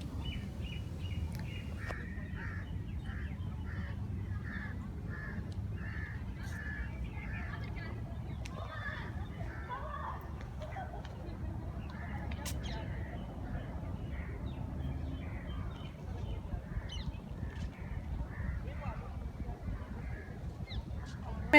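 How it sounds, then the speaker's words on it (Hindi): Birds call repeatedly in the background at Lodi Garden, Delhi, honking and cawing cries over a steady outdoor hum, with a person talking faintly at times. "परिंदों के चहचहाने की आवाज़ें कितनी प्यारी लग रही हैं।"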